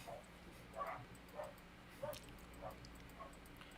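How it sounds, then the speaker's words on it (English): Dogs bark and yip at a distance, a handful of short, faint barks spread irregularly over a low background murmur. "Bark, bark, bark, bark, bark"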